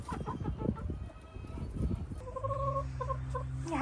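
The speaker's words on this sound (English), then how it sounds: "You happy chickens?" Farm chickens cluck and murmur close by in a busy, overlapping flock, with a few higher sustained calls rising toward the end.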